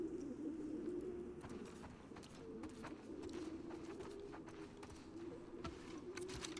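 Pigeons coo at a coop in The Last of Us Part II, soft repeated low cooing over a faint ambient bed, quiet and somewhat distant.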